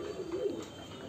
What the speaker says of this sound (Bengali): আজ আপনাদের দুটো পায়রা দেখাবো। পায়রা দুটি খুবই সুন্দর, কালদামা পায়রার বাচ্চা।